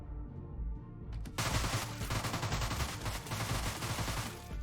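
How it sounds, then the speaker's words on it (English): SMG gunfire in the video game Deadbolt comes as a dense, rapid burst of loud automatic shots that starts suddenly and keeps going as a continuous rattling barrage, with no talking. "I say that as I engage in some of the messiest gunplay."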